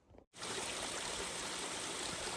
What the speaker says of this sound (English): this is the first waterfall I've seen on the Pinhote. It's actually pretty nice. It'd be better if there's more water